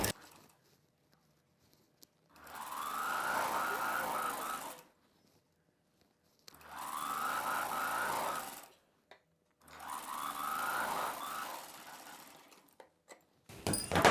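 Sewing machine stitching a folded fabric edge from the inside of a boat neck Punjabi dress, three steady runs of a few seconds each separated by quiet pauses, close and clear with no talk.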